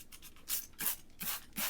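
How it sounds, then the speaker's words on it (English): Rhythmic scratchy rubbing strokes, about four firm passes in a row, close and fairly quiet, as fine 800–1000 grit sandpaper is worked back and forth over a car headlight lens. "Basically sanding off all this old gunk."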